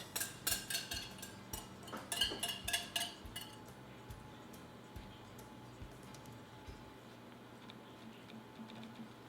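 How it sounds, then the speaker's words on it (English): Wet ingredients stirred into dry ones for pumpkin cheesecake muffin batter in a bowl, heard as a quick run of faint clicking and tapping strokes at the start that soon thins to sparse soft ticks. "We are going to mix in our wet into our dry."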